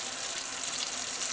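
A leather holster made for a Barkeep revolver is dipped into hot water, giving a steady, fairly loud rushing and gushing water sound that continues without a break and with no talk.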